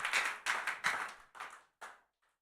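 A church congregation claps hands in praise during a Tuesday worship service, giving five fast bursts of claps that fade out as the clapping stops.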